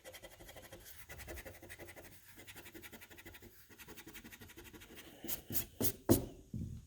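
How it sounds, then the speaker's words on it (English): Pencil marks rubbed off a wooden key hook board with an eraser, a steady scratchy scrubbing that runs through the clip and ends in a few louder, sharper strokes. "first erase all these old X's"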